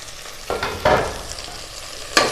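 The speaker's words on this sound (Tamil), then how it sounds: "இப்போ இதை நல்லா வதக்கி விட்டுருங்க." Fresh mint leaves sauté in hot oil in a pressure cooker for kuska biryani, giving a close sizzle with a few bursts of stirring and scraping.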